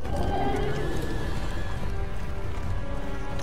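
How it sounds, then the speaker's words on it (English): Horses neigh and whinny in the video game Mortal Kombat X, with hoof clip-clop and a dense, loud game soundscape running continuously underneath. "You got them devil horses."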